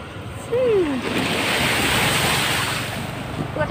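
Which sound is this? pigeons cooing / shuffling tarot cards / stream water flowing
stream water flowing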